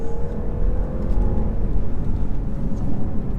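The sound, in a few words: 2019 BMW 530e accelerating in third gear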